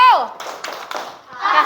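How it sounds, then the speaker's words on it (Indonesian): Children in an Indonesian classroom do a rhythmic clap routine for a group, a few sharp claps mixed with loud kids' voices calling out and a shouted exclamation. "Tepuk wow untuk kelompok 2."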